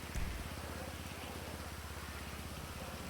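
Steady rain falling on a wet road in Grand Theft Auto Online, a continuous even hiss with a low engine rumble beneath it and no talking.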